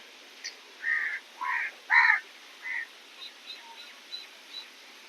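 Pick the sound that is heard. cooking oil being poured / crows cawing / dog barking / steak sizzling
crows cawing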